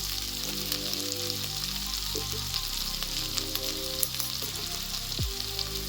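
Onion paste and ginger-garlic paste with chili powder, frying in hot oil for an egg curry, give a steady close sizzle with faint crackles throughout.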